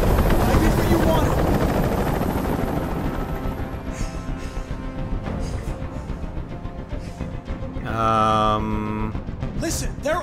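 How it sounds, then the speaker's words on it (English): A helicopter hovering during a hostage standoff in the video game Detroit: Become Human, a loud steady rotor roar that fades somewhat, with a voice speaking briefly near the end. "Tell that helicopter to get out of here."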